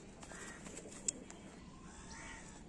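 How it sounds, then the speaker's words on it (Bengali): A pair of Chinese kalduma pigeons coo faintly in a quiet room, the low calls soft and distant, with a brief sharp tick partway through. "প্রথমেই এক পেয়ার চীনা কালদম দেখাচ্ছে"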